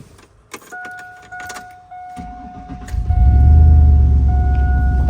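A Cadillac with a newly fitted exhaust starts up and settles into a deep, steady idle that grows louder and holds, with a faint electronic tone running through the quieter first seconds.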